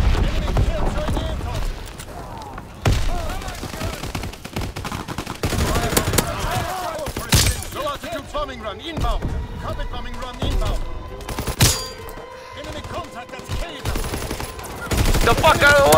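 Gunfire in Call of Duty: WWII, with dense bursts and single sharp shots across the whole stretch, heard under ongoing game sounds and people talking.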